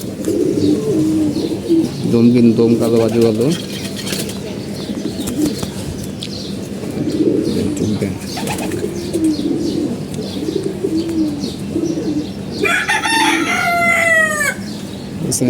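Army pigeons coo in repeated throaty, rolling bursts close by, with a rooster crowing and other fowl calling behind; someone talks over the birds at times.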